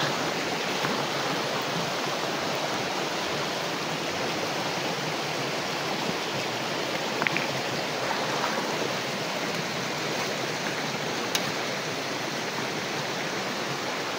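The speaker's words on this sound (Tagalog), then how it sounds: "Dito ko sa gilid ng sapa." A creek at night on Burias Island rushes past the bank in an unbroken, even wash of flowing water, loud and close, with a couple of faint clicks and no talking.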